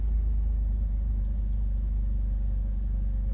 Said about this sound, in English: Rough idling.